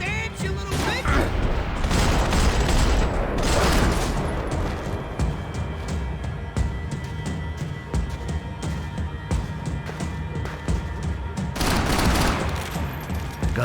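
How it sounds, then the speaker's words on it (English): Bursts of gunfire in the video game Max Payne 3 during a fight over Hoboken, with dense volleys, booming hits and crashing impacts, loud and close, easing off in the middle before flaring again. "Gunfire over Hoboken."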